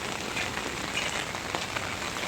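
Heavy rain falling in Hemayetpur, Bangladesh, a dense and steady outdoor downpour pattering hard on surfaces, loud and continuous with no voices.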